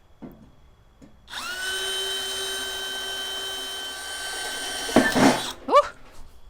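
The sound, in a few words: power drill drilling hole in pot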